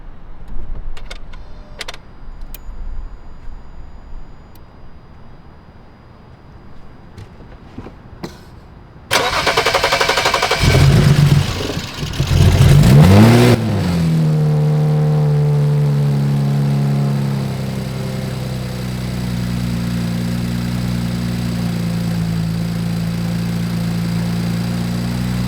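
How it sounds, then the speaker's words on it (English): A BMW E92 coupe cranks over on a cold start after some faint clicks, catches with a brief flare, then drops into a steady, loud idle that holds for the rest of the clip. "she running strong, sounding good. Fresh, nice little cold start."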